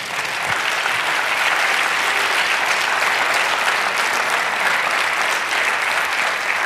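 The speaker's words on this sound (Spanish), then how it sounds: "Denle un aplauso al Señor." A church congregation claps continuously and loudly in praise during a sermon, a dense unbroken wash of applause that holds steady throughout.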